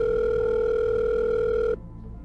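A telephone call comes through as a steady, loud electronic tone that holds evenly for almost two seconds, then cuts off abruptly, leaving faint background hum.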